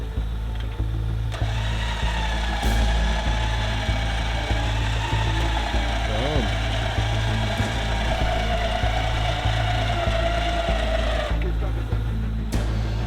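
An off-road vehicle creeps forward on a rough trail during a recovery, a steady mechanical drone with clicking, ratcheting noises, continuous and fairly close, with occasional voices over it.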